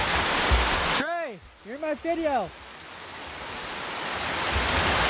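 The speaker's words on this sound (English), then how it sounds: "This is the waterfall." Steady broadband rush of a waterfall along a zip line route, continuous and fairly loud throughout, with a voice speaking briefly over it near the start.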